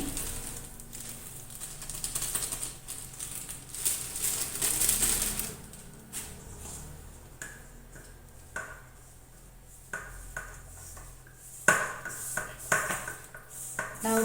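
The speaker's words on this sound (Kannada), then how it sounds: "ಮೈದಾ ಹಿಟ್ಟನ್ನು ಇಲ್ಲಿ ಹಾಕಿ ಕಲಿಸ್ಕೊಳ್ಬೇಕು" Maida flour dough is mixed by hand in a bowl for karjikai, giving soft irregular patting, scraping and light clinks of the bowl, close and fairly quiet.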